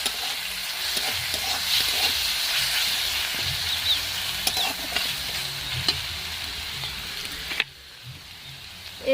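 Tomatoes, capsicum and potatoes sizzling and being stirred in a hot pan, a steady close frying hiss with scattered scrapes and clicks of the spoon, cutting off sharply near the end.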